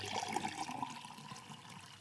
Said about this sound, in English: I'm going to fill each one of them with the same amount of water